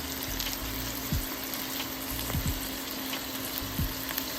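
Apples fry in butter in a pan with a soft, continuous sizzle and occasional faint pops and scrapes, steady and fairly quiet throughout, with no talking.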